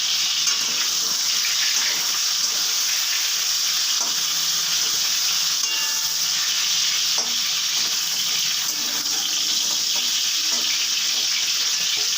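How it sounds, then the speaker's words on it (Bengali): Pointed gourd (potol) frying in hot oil in a pan gives a steady, close sizzle across the whole stretch, with occasional light stirring and utensil clatter and no talking. "পটলগুলো আমার মোটামুটি ভাজা হয়ে গেছে। এবার এগুলোকে একে একে তুলে নিচ্ছি।"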